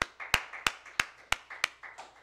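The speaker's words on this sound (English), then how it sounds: "warm hand clap, please?" Church congregation clapping in welcome for a visiting reverend, a few sharp, evenly spaced claps standing out over a softer spread of scattered clapping at a steady rhythm.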